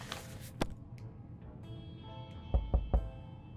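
Knocking on a shelter door in 60 Seconds! Reatomized: three quick, fairly close thuds near the end, following a sharper isolated knock earlier, over a quiet tonal background with no talking.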